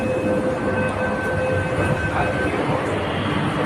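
A metro train at Yeshwantpur metro station gives a steady, loud rumble with a thin tonal whine held through the pass, and the noise level stays even from start to end.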